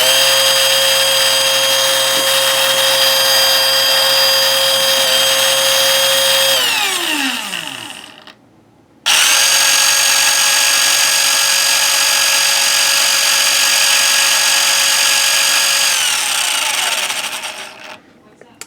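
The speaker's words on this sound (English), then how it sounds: "And this one I still hear a lot more gear noise, like a flutter, like the gears aren't meshing quite as well together" A V3 gearbox runs at full speed on a fully charged battery, a loud steady electric whine with a fluttering gear mesh. It spins down, goes briefly silent, then starts up again and runs steadily before fading near the end.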